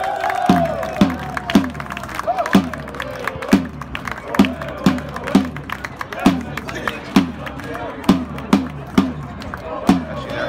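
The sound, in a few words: football supporters applauding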